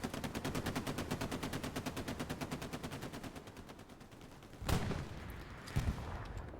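Rapid machine-gun fire from a tank battle video game, a long run of evenly spaced, close bursts that thins out, followed by two heavier, sharper blasts near the end.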